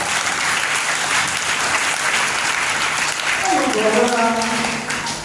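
Loud, steady applause from a church congregation fills the room without a break, and a sung or spoken voice rises over the clapping near the end.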